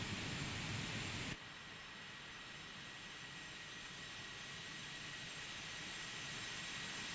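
An Aerobask Epic Victory jet in X-Plane 11 runs with a steady broadband engine roar and a faint high whine, loud at first, then dropping slightly and holding even.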